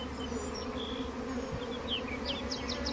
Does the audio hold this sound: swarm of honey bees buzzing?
yes